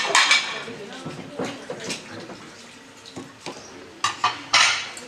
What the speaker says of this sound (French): Pendant que les autres faisaient la vaisselle